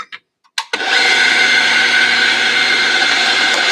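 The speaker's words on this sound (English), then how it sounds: "Now it's time to do some grinding." After a couple of short clicks, a coffee grinder starts up and grinds with a loud, steady whirring roar until the end.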